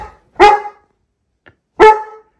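A dog barks twice, loud and close, about a second and a half apart, with silence in between and no other sound.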